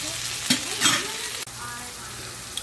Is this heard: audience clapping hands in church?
no